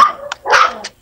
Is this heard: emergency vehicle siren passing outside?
no